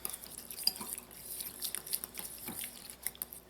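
Ricotta being whisked in a bowl for a fruit cocktail salad, heard as quiet, irregular clinks and scrapes of the whisk against the dish, soft and close with no talking.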